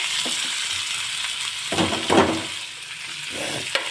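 Boiled potatoes frying in hot oil with asafoetida and turmeric in a kadai, a continuous loud sizzling hiss with repeated scraping stirs of a spatula against the pan.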